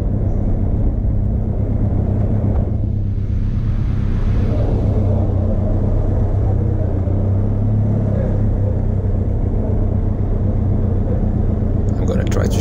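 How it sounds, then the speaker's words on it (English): Benelli TRK 502 X motorcycle, fitted with a 15-tooth front sprocket, pulling away on the road with loud continuous engine rumble and wind noise throughout. "The bike feels very fast off the lights."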